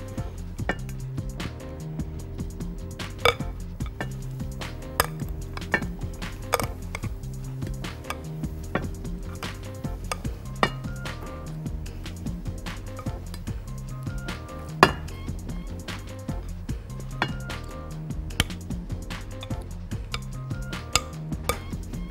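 Butter-sauce shrimp being dished out, with light clinks and taps of a utensil against plates and bowls, scattered and fairly quiet against a low musical background.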